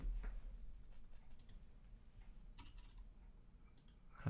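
Very quiet, irregular clicking of computer keys during a typing speed practice session, with soft scattered taps over a low steady background hum.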